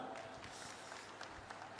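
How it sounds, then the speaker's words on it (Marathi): Crowd applause at an outdoor political thank-you rally in Nanded, steady clapping texture lasting under two seconds, fairly quiet with some background voices mixed in. "जोरदार टाळ्या प्लीज"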